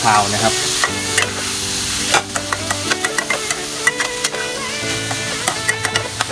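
Eel meat stir-fried with curry paste sizzles loudly in the pan, with repeated sharp clacks of a spatula scraping and tossing it in an irregular rhythm.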